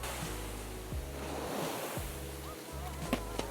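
Ocean waves wash onto a beach in a steady, loud roar, with wind buffeting the microphone and occasional low thumps.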